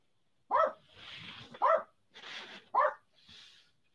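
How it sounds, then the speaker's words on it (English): A dog barks three times in sharp, evenly spaced bursts, fairly near indoors, with quiet gaps of whimpering or breathing between them and no talk. "Dog's barking for no reason."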